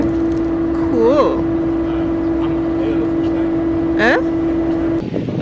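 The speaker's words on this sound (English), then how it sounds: "The car barely was able to make it up the steep part of the hill" A car engine labours up a steep hill road in Paramin, Maraval, Trinidad, a steady loud drone holding throughout with brief whining rises as the motor strains, while people talk briefly over it.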